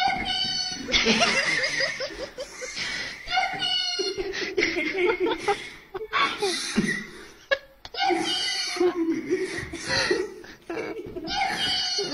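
High, squeaky little voices of Lethal Company game creatures cry out "yippee" in rapid repeated bursts, with people laughing and talking over them.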